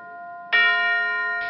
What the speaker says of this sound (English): Brad Larson's chimes are the first thing you hear as the East Grand Forks High School Band pays tribute to his best friend, Monte Zak